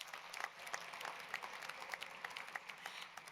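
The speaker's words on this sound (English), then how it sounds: "please give one more round of applause for our head coaches and sport representatives." Audience applause at a university athletics student-athlete graduation ceremony in Arizona, honoring head coaches and sport representatives: a steady wash of many hands clapping from a sizable crowd, continuous and fairly even, with no talking over it.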